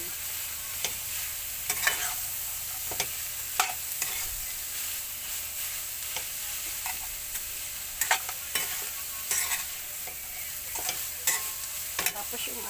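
Red and green bell peppers are stirred in a hot frying pan while cooking low-budget bopis with tofu. A utensil scrapes and clacks in irregular strokes over a steady sizzle, with no talking.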